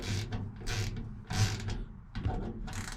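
Fasteners being undone on a 1968 Ford F100, with several bursts of mechanical ratcheting clicks separated by short pauses, close and moderately loud.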